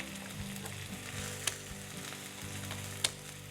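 Chicken frying in a pan, a soft, steady sizzle with light crackles and two sharp clinks of a utensil, fairly quiet and without talking.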